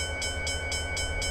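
A railroad crossing bell in a train simulator, ringing in steady evenly spaced dings over a constant low rumble of Norfolk Southern coal district rail traffic.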